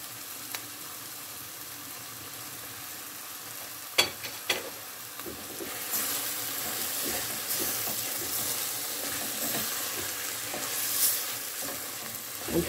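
Chinese noodles with vegetables and tuna stirred in a pan with a spoonful of soy sauce, a steady sizzle rising midway with a few sharp utensil clacks against the pan, no voices.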